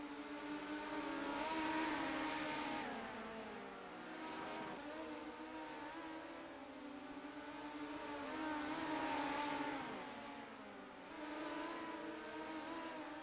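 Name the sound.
race cars racing on a dirt track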